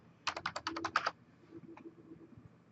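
A computer keyboard pressed in a quick burst of about eight close key clicks, followed by a single faint tap in near quiet.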